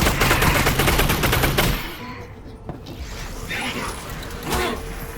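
Dense, rapid gunfire in the VR shooter Half-Life: Alyx rattles loudly for nearly two seconds, then gives way to quieter game ambience with a few softer thumps and scattered noises.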